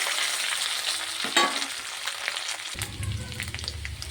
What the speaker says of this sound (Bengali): মশলাটা ভাজা হয়ে গেছে, আদা জিরেটা।